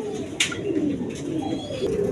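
Colored gola Giribaj pigeons coo softly nearby, a few low rolling coos overlapping with faint rustles and a brief sharp flutter, with no one speaking.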